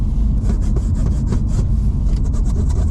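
Close, loud scratchy rubbing on the hard plastic dashboard of a 2004 Nissan 350Z, a rapid back-and-forth squeaking scrape repeated over a few seconds.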